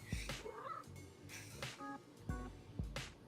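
A long-haired cat meows repeatedly nearby, with several distinct rising calls spaced through the stretch, faint electronic tones and soft background noise in between.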